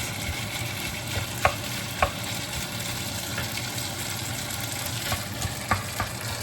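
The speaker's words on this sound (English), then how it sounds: "So right now I'm just cooking the onions." Onions and taco meat frying in a pan, a continuous close sizzle with occasional sharp clicks of a utensil stirring against the pan, steady and fairly loud, no talking.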